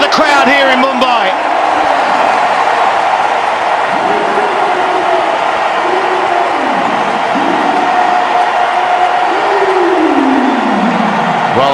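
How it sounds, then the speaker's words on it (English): Stadium crowd at a T20 World Cup cricket semi-final in Mumbai, a dense continuous roar with rising swells and chants, loud and sustained beneath a commentator's voice. "Listen to the crowd here in Mumbai."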